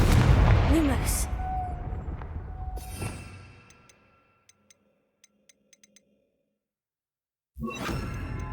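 A Confringo fire spell cast in Hogwarts Legacy: a loud whooshing blast up front that tails off into a fading rumble, then a few faint ticks in near silence before another loud burst of sound.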